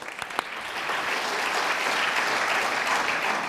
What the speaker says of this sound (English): A little round of applause for Ronan there